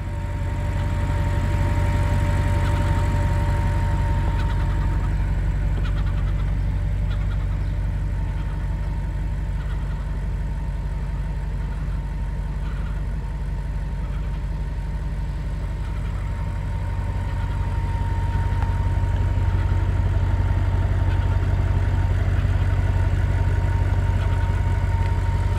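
A 2015 Audi RS5 Cabriolet with a 4.2 V8 idles after start-up, a steady, deep, close exhaust drone that holds evenly throughout with no talking.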